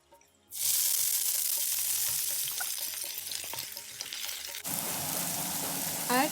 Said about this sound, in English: Once the oil is hot, add the onions and saute them.